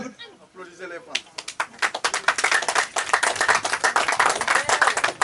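A crowd claps for the women at a community garden inauguration, starting after a brief spoken phrase and building into dense, loud, uneven applause that carries on to the end.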